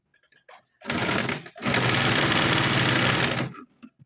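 A sewing machine stitches the tucks of a size 38 four-tuck blouse at three-quarter inch, running in a short burst and then a longer steady whirring run, close and loud.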